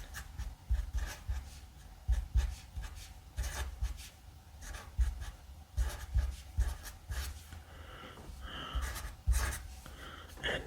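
A Sharpie marker scratches across paper in a run of short, close strokes with brief pauses between them, soft and steady, with no talking.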